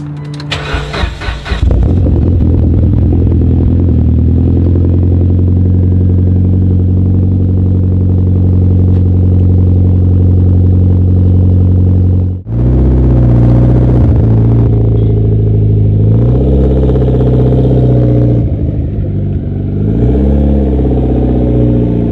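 A Toyota Sienna minivan, left unused for several weeks, cranks briefly and catches, then settles into a loud, steady idle close by. Its pitch shifts noticeably partway through, with no talking.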